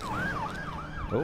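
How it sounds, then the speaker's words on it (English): A police siren from the Batman Telltale video game wails up and down in slow sweeps, moderately loud over a dense background, with a brief exclamation from a voice. "That's the sound of the police."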